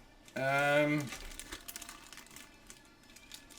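Sealed plastic parts bags from a large Revell 1/8 scale model kit crinkle softly and intermittently, close by and fairly quiet, right after a brief burst of voice.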